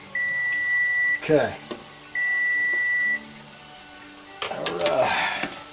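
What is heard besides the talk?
kitchen timer beeping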